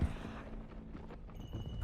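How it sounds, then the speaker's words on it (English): Horses trotting in the Red Dead Redemption 2 video game, a soft rapid clip-clop of hooves, quiet and brief, without talk. "Come on, horses. Go then."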